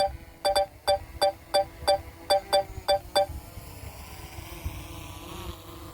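DJI Mavic 3 drone on auto takeoff: about ten short, evenly spaced high beeps, then rising propeller whine over a low background rumble.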